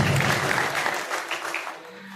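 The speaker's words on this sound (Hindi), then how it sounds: "एक बार जोरदार तालियां बजा दीजिए।" Audience at an evening event honoring a politician at the Urdu Academy in Gomti Nagar, Lucknow, breaking into loud, close applause that fades over about two seconds.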